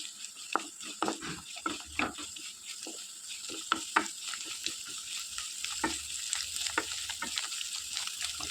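Green chillies frying in a pan for a green masala for bangude (mackerel) fish, a steady high sizzle broken by clicks and scrapes of stirring, close by with no talking.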